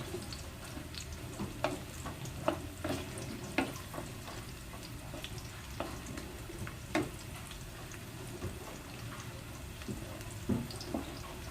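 Garlic fries in oil until it browns, giving a low, steady sizzle with scattered faint pops and clicks, fairly quiet and close with no talk.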